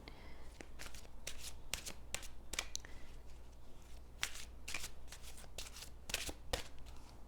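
A deck of soul journey oracle cards is shuffled close by, giving a run of quick riffling and snapping bursts separated by short pauses, with no voice over them.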